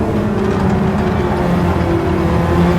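Race car engine from Gran Turismo 7 at Suzuka East, a steady loud drone held through a double S section with slight pitch shifts, continuous and close, no talk.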